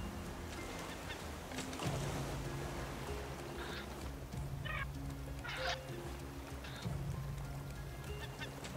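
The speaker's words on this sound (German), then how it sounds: "Die Vögel greifen mal die Vogelscheuche jetzt an." Birds in the survival game Raft pecking at a scarecrow on a raft at sea, with short squawking calls bursting out several times over a steady low game hum and wash of water.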